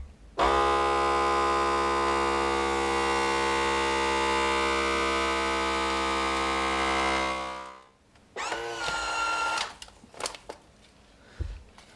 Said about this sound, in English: now we're going to go ahead and vacuum seal